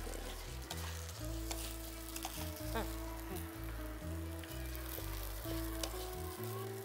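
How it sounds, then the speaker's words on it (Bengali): Rice steadily frying and sizzling in a pan as biryani is prepared, a continuous close hiss with stirring, under background music and a brief spoken word. "এটা কি ভাজতে হবে? ভাজতে হবে, ভালো করে ভাজতে হবে, নাহলে লেগে যাবে।"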